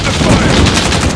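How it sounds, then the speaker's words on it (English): Heavy automatic gunfire in Call of Duty Warzone, loud and continuous bursts of close shots with a voice faintly mixed underneath. "I'm under fire!"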